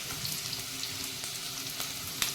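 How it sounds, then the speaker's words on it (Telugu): Onions and chillies frying in a pan for street-style panipuri chaat, a steady close sizzle with faint stirring scrapes and a small clink near the end, no voices. "ఎక్కువ బాగా ఫ్రై అక్కర్లేదు, జస్ట్ ట్రాన్స్పరెంట్ అయితే సరిపోతుంది"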